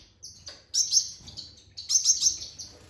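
A 35-day-old Gouldian finch chick gives bursts of thin, high chirps in quick clusters, close and fairly soft, with short pauses between the bursts.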